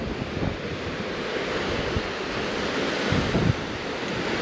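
Ocean surf rolls in steadily at Palomarin beach, Point Reyes National Seashore, a continuous close roar of waves with wind buffeting the microphone and a slightly louder surge near the end.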